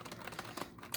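Faint, quick keystrokes rattle on the somewhat rubbery keyboard of a Compaq LTE Lite 20 laptop in a brief burst of typing.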